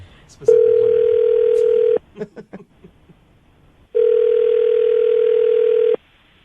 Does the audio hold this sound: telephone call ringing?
yes